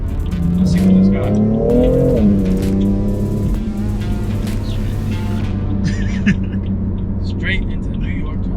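A 2017 BMW M4 Competition engine revving: a loud, deep rumble climbs and falls in pitch early on, then settles into a steady close idle-like drone.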